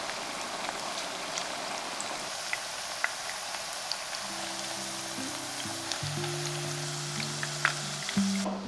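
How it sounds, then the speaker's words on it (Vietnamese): Soaked green bananas frying in hot oil for a Vietnamese pork belly stew, a steady crackling sizzle throughout with occasional pops, plus a low musical hum in the background. "Bây giờ mình cho vào chiên sơ để chuối không bị rã khi ôm ha."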